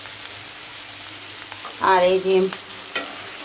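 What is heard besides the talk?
bitter gourd (karela) frying and being stirred in a pan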